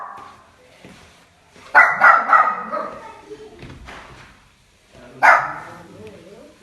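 A guard dog gives a few loud, close barks in two short bursts, separated by quieter stretches with people talking nearby.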